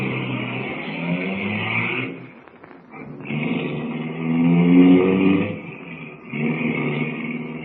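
A car engine revs and the car pulls away, a steady motor roar that dips briefly and then rises again as the car drives off, with no talking.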